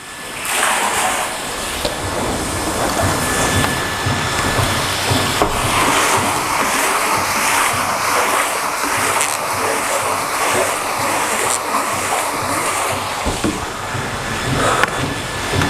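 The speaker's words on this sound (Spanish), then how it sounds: "Voy a cerrar el grifo, ¿no? Que estaba saliendo agua" Water gushes from a tap into a hydroponic nutrient reservoir, a loud, dense, continuous rushing splash that runs unbroken from start to finish.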